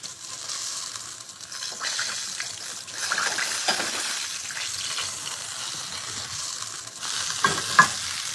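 Hot fat is drained from beef short ribs in a heavy cast iron skillet, giving a continuous close sizzle with liquid pouring and a few scraping knocks.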